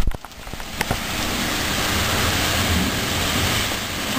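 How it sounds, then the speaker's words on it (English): Heavy storm rain pours down in a dense, continuous hiss and roar, loud and close, with a few sharper drips or knocks early on and no talk. "We are having a really bad storm right now."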